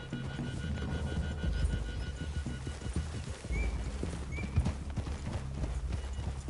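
Horse hooves clip-clopping at a walk in the Red Dead Online video game, a steady, fairly close rhythm of soft thuds with a brief whinny mixed in, with no talk.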